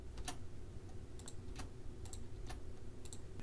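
Computer keyboard keys are pressed about eight times at an uneven pace, sharp close clicks over a low steady room hum, with no talk.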